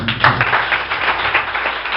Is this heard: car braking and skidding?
no